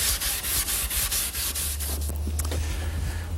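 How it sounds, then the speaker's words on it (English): Wood being hand-sanded in a final smoothing pass, a steady rhythmic rubbing of repeated strokes, close and loud, that stops near the end under a low hum. "A little bit of final sanding."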